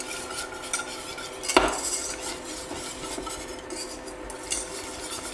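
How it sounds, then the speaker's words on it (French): Chocolate stirred slowly as it melts in a pan on the lowest heat setting for a chocolate flan, with a steady soft scraping and one sharper utensil knock against the pan near the start. "Je mets mon chocolat. Et je viens le faire fondre gentiment."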